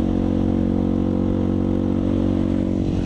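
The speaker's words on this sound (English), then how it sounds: "My bike's starting to kind of sputter a little bit" Motorcycle engine droning steadily while riding, a constant loud mid-pitched hum with a faint uneven sputter and no voices.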